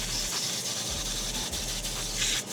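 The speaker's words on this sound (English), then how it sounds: "I'm gonna spray off this vent" Water sprays steadily off the vent of a cold plunge tub, a close, continuous hiss with slight rubbing shifts and no speech.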